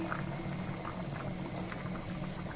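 Taro corms simmering with dried fish in a covered pot, giving a steady low bubbling boil that runs evenly throughout with no talk over it.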